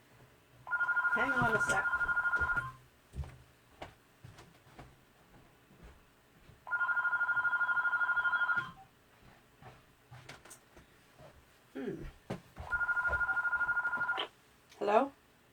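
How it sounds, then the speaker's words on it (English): A house phone rings in three loud, regular bursts of electronic trilling, each lasting about two seconds with pauses between, while someone talks quietly near and between the rings. "Oh no, I forgot to turn off my house phone."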